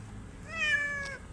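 Cat giving a single drawn-out meow, close and clear over a low background hum.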